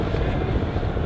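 A Boeing P-8 Poseidon flying at the Farnborough 2016 air show makes a loud, steady, rumbling jet roar over one brief moment.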